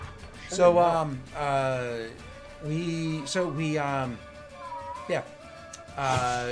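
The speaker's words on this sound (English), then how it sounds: "Sorry, that cat is super distracting to me." A cat meows repeatedly with long, drawn-out, wailing cries, loud and close, interspersed with brief pauses and someone talking in the background.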